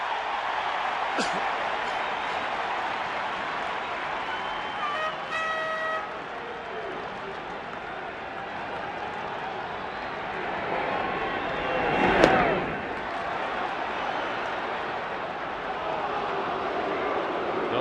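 Raucous baseball crowd at Veterans Stadium for the 1993 NLCS Game 6, a steady loud murmur with a horn toot and a brief swell, under a commentator's talk.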